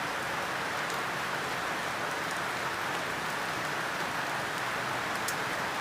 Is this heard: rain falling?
yes